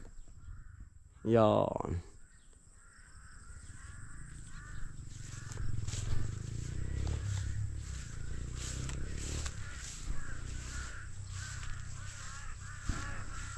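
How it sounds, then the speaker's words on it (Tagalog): Crows caw repeatedly in the distance against steady background noise, with a person speaking briefly near the start and a sharp squawk early on. "Dami na namang uwak."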